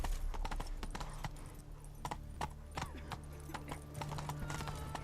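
A horse gallops in the video game The Witcher 3, its hooves beating out a quick, uneven clip-clop rhythm that sounds fairly close over a low background hum, with no talking.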